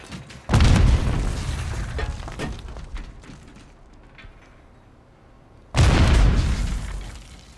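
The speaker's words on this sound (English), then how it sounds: "Throwing grenade!" Two heavy grenade blasts in Call of Duty multiplayer on an Urzikstan bunker map, each a sudden loud boom with a long rumbling, crackling decay, the second arriving several seconds after the first has faded.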